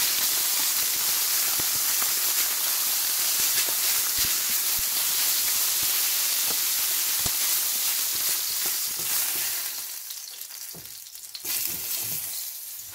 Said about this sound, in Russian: И обжариваем рыбу.